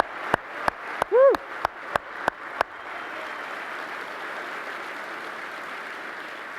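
Conference audience applause opens with a few evenly spaced sharp claps and a single whooping shout, then swells into a steady, dense wash of clapping that carries through to the end.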